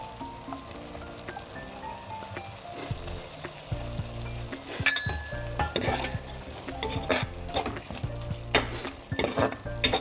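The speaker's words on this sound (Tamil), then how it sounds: "மசாலாலாம் நல்லா மிக்ஸ் ஆன அப்புறம் நம்மளோட க்ளீன் பண்ணி வச்ச ட்ரை ஃபிஷ்ஷை போட்டுக்கலாம்." Cleaned dry fish fries in a spicy masala while a spoon stirs and scrapes the pan, giving a steady sizzle broken by repeated close clatters and scrapes.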